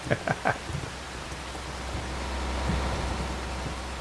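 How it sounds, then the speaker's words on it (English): Rainfall in the video game Farming Simulator 25 on a Louisiana farm, a steady broadband hiss with a low rumble, holding constant beneath a few brief thumps near the start. "Let me stand here in the rain and check and see the weather"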